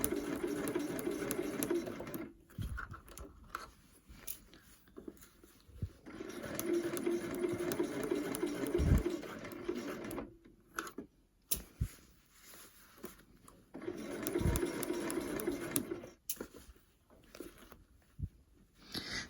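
Sewing machine setting a flat sleeve into fabric, running in three separate bursts of steady whirring with quiet pauses and small handling clicks between them, moderately close.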